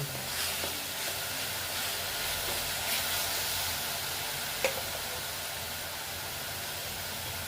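Ginger garlic paste frying in a pan for a rajma curry, giving a steady, soft sizzle and hiss throughout, with a faint clink partway through.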